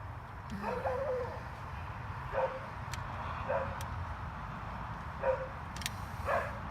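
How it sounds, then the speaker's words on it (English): A dog in a garage workshop gives several short whimpering yips and barks spaced across the stretch, fairly faint against a low background rumble. "Dogs, all they do is bark."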